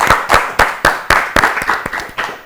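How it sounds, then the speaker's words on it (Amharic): Studio audience at an Ethiopian children's Easter quiz show claps in a burst of sharp, rhythmic hand claps, close and lively, with no talk over it. "አጨብጭቡላት እስቲ በደንብ አድርጋችሁ በደንብ"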